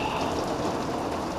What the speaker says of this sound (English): This rain's ridiculous.